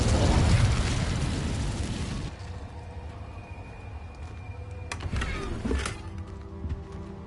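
A loud whooshing fire-spell burst from Incendio in Hogwarts Legacy, a roaring blast that fades after a couple of seconds, followed by a few quieter pops and clicks.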